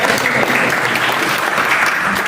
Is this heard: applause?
yes